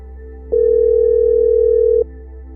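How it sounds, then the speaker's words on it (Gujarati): A steady single-pitch telephone tone of the kind heard when placing a call, lasting about one and a half seconds at a constant level with no speech. "પેલા કિશનભાઈ ફોન કરી દેજો કરી દઉં"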